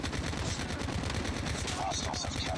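Call of Duty Mobile automatic weapons fire steadily in close, loud, rapid bursts throughout, with a few game effects and faint voices mixed underneath.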